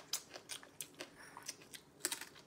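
Crispy fried squid is bitten and chewed up close, producing a quick series of sharp, irregular crunches over a couple of seconds.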